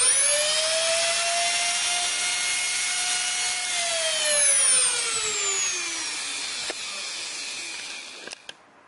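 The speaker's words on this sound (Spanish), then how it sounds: "podemos prender el taladro y ver que ese sea nuestro eje Z" CNC machine spindle (a drill-type router) running steadily with a strong whine, a tone that holds then glides downward as it spins down, loud and close with no voices.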